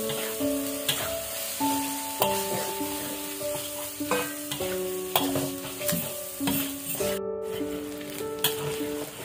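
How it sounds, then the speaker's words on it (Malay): Minced meat sizzles in a pan while being stirred for spaghetti bolognese, with repeated scraping strokes at a steady rhythm under background music with a clear melody. "Kemudian masukkan daging cincang, kacau sampai daging masak."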